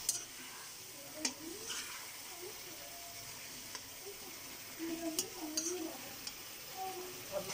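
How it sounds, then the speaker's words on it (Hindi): Jackfruit is stirred and mixed in a frying pan, a sizzle broken by scraping and clinking of a spatula, louder in bursts toward the end, close and with no speech over it. "कटहल ऐड करेंगे, इसको अच्छे से मिक्स करेंगे हम।"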